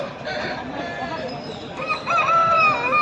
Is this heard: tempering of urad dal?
no